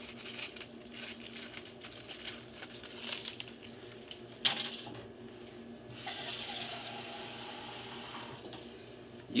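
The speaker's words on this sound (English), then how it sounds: "Put in a little bit of water." Tap water running steadily into a pot for a pot roast being prepared with onion dip mix and chicken broth, a quiet continuous splashing stream with a brief clatter midway and no talking.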